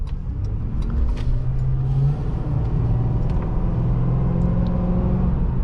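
A Ford Crown Victoria pulls away from a standstill. A loud, steady engine rumble rises as it accelerates, and faint higher squeaks sound above it.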